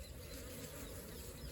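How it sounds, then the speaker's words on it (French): Honeybees fly around a hive in an apiary in winter, a faint, continuous buzzing hum with no voices. "là je vois des abeilles de ce côté-là"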